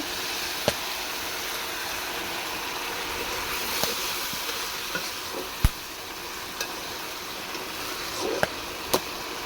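Small fish fry in a hot pan for a pre-dawn meal, making a steady, close sizzle with occasional sharp pops and crackles scattered over it.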